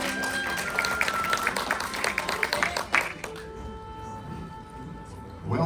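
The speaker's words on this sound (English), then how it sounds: "Let's get a great big round of applause" An audience at Walt Disney's Carousel of Progress in the Magic Kingdom applauds in a crowded, scattered burst of clapping that fades out, followed by a quieter stretch with a steady tone.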